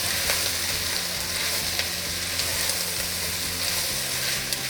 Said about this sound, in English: And I'm going to add 2 tablespoons of tomato paste. And I'm just going to go ahead and stir it all up.